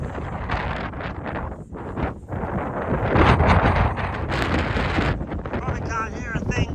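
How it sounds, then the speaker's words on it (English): Strong wind buffets the microphone on a mountain summit in Tasmania, roaring and gusting loudly across the whole stretch while a person talks faintly beneath it. "Probably can't hear a thing because it's so windy up here."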